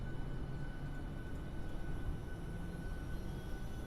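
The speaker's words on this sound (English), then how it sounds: "And we'll go ahead and spool up the APU." The APU of a PMDG 737-700 in Microsoft Flight Simulator runs steadily, a loud, even turbine roar with a faint high whine held constant throughout, no talking.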